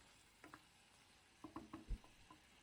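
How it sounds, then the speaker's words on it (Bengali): Fish curry being stirred in a pan, a few soft scraping and sizzling strokes in a short burst, fairly quiet and close, with no talking. "ভালোভাবে নাড়াচাড়া করে মরিচগুলা সব মাছের গায়ে লাগাই নিচ্ছি।"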